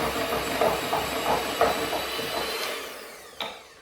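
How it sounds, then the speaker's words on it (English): Chocolate is whisked into a buttermilk mixture in a bowl for a gluten-free chocolate cake, giving close rhythmic swishing strokes over a wet hiss that fades out, with one final sharp tap. "I'm just going to add in the chocolate and then just give it a whisk around."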